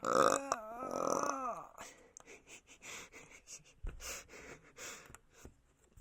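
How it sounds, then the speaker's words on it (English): A voice makes strained, drawn-out burping sounds at the start, followed by a series of short breathy gasps and grunts. "Just painful burps."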